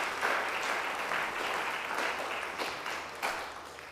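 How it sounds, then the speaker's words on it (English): An audience in a church in DeKalb, Illinois claps in sustained applause, a dense, even wash of many hands heard from a moderate distance for several seconds. "Good place to clap."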